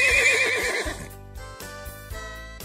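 A horse in a stable gives a loud, wavering whinny that fades after about a second, followed by steady rhythmic background music.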